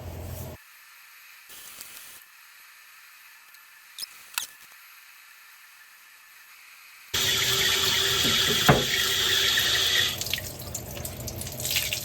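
Tap water runs steadily over a lithography stone being rinsed after a lemon juice counter etch, a quiet stretch giving way to a loud, continuous splashing rush that fills the second half alone.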